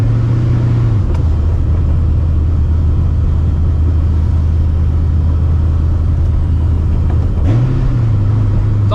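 A supercharged New Edge Mustang GT with a roughly 700 hp setup and lightweight flywheel, heard from inside as a loud, steady engine drone that dips and rises twice as the revs shift during downshifts.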